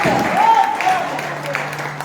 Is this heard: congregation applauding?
yes